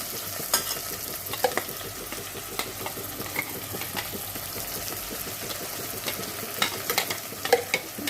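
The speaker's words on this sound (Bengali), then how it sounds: "চপ করা পেঁয়াজটাকে ভেজে নেব" Chopped onion frying in a pan for a Mangalorean mutton ghee roast gives a steady close sizzle with crackling pops and occasional stirring scrapes throughout.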